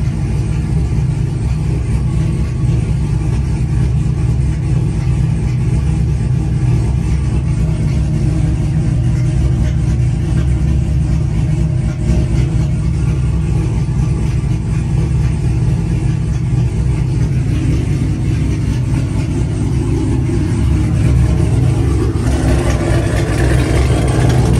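A cammed Chevrolet Camaro ZL1 engine idles continuously, with a loud, deep, steady rumble that holds for the whole stretch and picks up slightly near the end.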